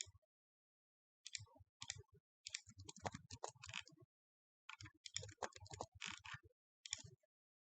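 Computer mouse button clicks come in short sharp bursts separated by pauses, close and crisp in a quiet room with no voices.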